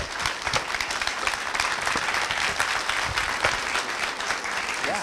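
An audience at a Creative Mornings talk applauds with sustained, dense clapping that stays loud and even for the whole stretch, with no talk over it.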